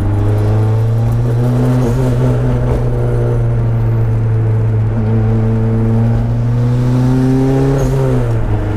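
A turbocharged Mazda Miata accelerates hard, its engine a loud, steady droning roar with a slowly climbing pitch that carries through the whole stretch, with no talking.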